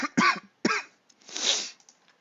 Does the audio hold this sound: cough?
yes